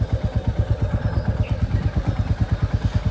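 A Royal Enfield Classic 350 motorcycle runs on its own torque without throttle, its engine giving a steady, rapid low thumping beat that stays close and even throughout, with no speech.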